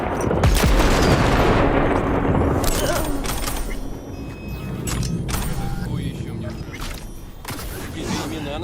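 In Cyberpunk 2077 combat, a loud grenade blast booms up front, followed by rapid gunfire and sharp shots crackling through a noisy firefight, with a voice speaking over the action.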